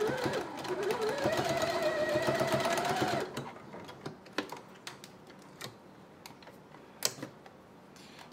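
Sewing machine running a fabric seam with a backstitch on a thermal bottle-holder project, a steady close whirring hum for about three seconds, then stopping, followed by scattered light clicks and handling taps.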